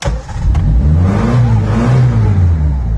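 A modified Premier Padmini car with a pull starter fires up and settles into a loud, close, throaty idle with a low rumbling exhaust note and slight revving.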